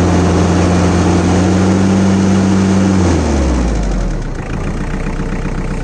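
A loud, close high-speed tractor engine, rated 2700 rpm, idles with a steady low hum, then its pitch drops as it slows down and settles into a lower, rougher rumble.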